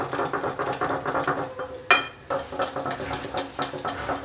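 Egg being mixed into a cake rusk batter, with a rhythmic whisking and scraping against a bowl close up, plus one sharper clink partway through.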